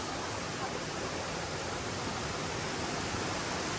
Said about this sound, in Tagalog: Malakas ang agos dyan.